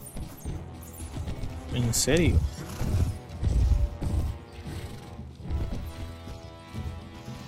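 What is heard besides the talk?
horses galloping in Mount and Blade Warband video game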